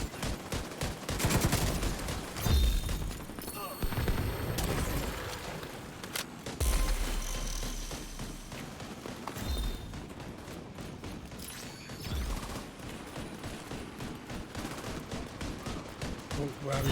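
Gunfire in The Division 2: repeated rifle bursts and sharp single shots, near and loud, with heavy low thumps between volleys and someone talking over the shooting.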